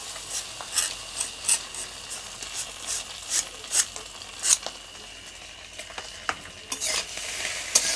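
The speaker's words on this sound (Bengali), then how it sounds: "নুডলসের সাথে ভালো করে ডিমটা মিশিয়ে নেব" Boiled noodles stirred together with fried egg in a hot pan, a steady soft sizzle under repeated scraping strokes of the spatula, close and even, with no one talking.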